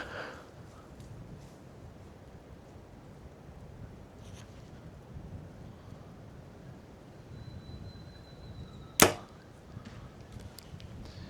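An arrow from a bow fitted with a Spot Hogg sight strikes a target with a single sharp, crisp impact late on, heard outdoors over steady wind noise with faint taps earlier.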